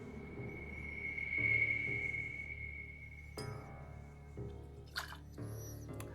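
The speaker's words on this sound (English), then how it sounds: "We're going to start with 1 ounce of freshly squeezed lime juice" Freshly squeezed lime juice is poured for a margarita, giving a faint, close trickle with a high ringing tone, followed by soft clinks and small taps of glassware.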